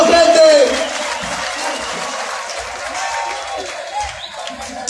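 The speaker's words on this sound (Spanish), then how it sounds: "¡Fuerte las palmas!" A crowd at a rap battle claps steadily in a dense, roaring wash of applause, with a voice heard briefly at the start over the noise.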